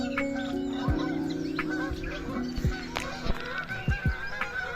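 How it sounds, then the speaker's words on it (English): Ducks call repeatedly outdoors, a series of nasal honking quacks at moderate distance over a steady background hum. "Birds. The ducks, actually."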